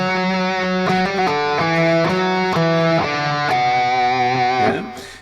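Distorted electric guitar playing the opening four bars of a song, sustained chords and held notes shifting every bar, loud and continuous with no talking over it.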